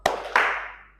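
Two sharp hand claps in a classroom clapping game, close and fairly loud, the second ringing out with a short reverberant tail.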